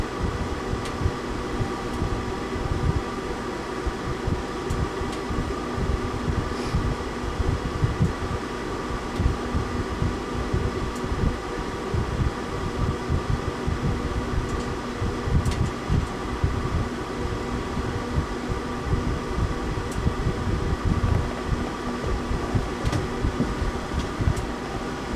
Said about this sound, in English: Strange is that the blower motors on top is still going